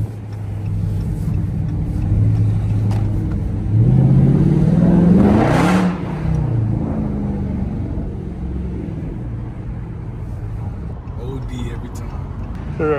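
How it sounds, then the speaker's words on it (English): Car exhaust revving up, the engine note climbing and swelling to a loud rumbling peak midway before settling back to a low idle, with a person talking over it. "y'all haven't heard my exhaust in a minute"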